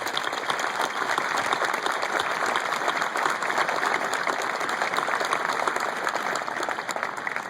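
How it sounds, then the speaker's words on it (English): A large commencement audience at Millersville University applauds the military, a steady dense wash of clapping that holds at full strength for the whole stretch, with no voices standing out. "would you join me in a round of applause to our military?"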